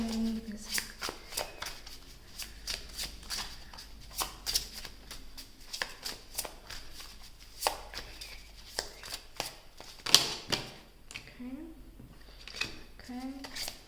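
Tarot cards are shuffled and drawn by hand, with a steady run of crisp riffling flicks and soft slaps up close, interrupted by brief pauses.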